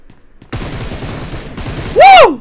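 Rapid automatic gunfire in the video game PUBG Mobile, dense and close, firing in a steady burst before a short break and another shot. A loud whistling game effect sounds near the end.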